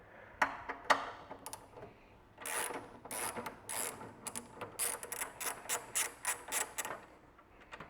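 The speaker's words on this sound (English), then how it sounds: "I'm just going to use a standard ratchet" A standard ratchet with a 14mm socket loosens a nut while a TCS Motorsports X brace is installed on an MR2, giving bursts of quick, close mechanical clicks in a steady rhythm, loudest toward the end.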